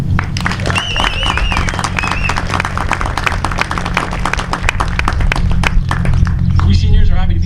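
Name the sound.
applause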